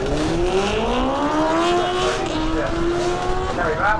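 A racing motorcycle at a straightliners drag event at Melbourne Raceway, York, its engine revving up through rising gear-like pitch sweeps, loud and close, with an announcer's voice over it.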